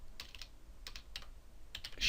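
Keys clatter on a computer keyboard as a command is typed into a C++ text-based adventure game, a few quick clusters of clicks spread across two seconds, close and fairly soft, with no talk.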